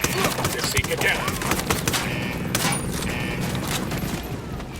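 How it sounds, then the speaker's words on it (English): Video game gunfire in Ghost Recon Wildlands: a dense, continuous stretch of rattling shots and scattered cracks, with a couple of sharper loud reports standing out, heard fairly close and without clear talk. "Opening fire."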